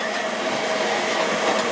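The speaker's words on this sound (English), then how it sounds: "This vacuum has a blower on it, and then we're going to blow on it." A vacuum cleaner used as a blower roars steadily while blowing lint out of a clothes dryer vent, a constant loud whooshing airflow with no breaks.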